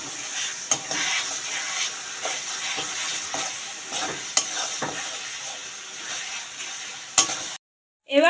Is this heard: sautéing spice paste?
yes